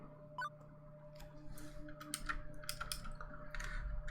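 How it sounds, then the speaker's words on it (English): Typing on a loud computer keyboard, with irregular clusters of sharp key clicks that grow busier toward the end over a steady low electrical hum. "I forgot to switch over to my quiet keyboard for the stream"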